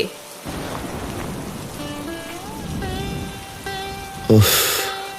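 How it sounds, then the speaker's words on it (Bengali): Heavy rain falling outside in a cartoon, a continuous hiss of rainfall with tonal music running through it and a sharp thunder-like crash near the end. "ওঠো, দেখো বাইরে কি জোরে বৃষ্টি হচ্ছে।"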